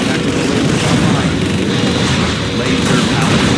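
Tactical laser strikes in the Command & Conquer Generals Zero Hour strategy game, heavy booming blasts and rumbling explosions forming a loud continuous barrage.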